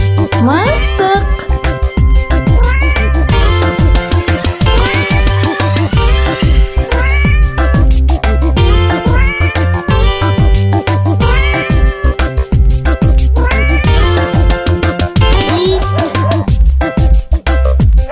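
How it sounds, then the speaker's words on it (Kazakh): A cat meows loudly and repeatedly, with drawn-out, wavering cries following one another close up through the whole stretch. "Мысық."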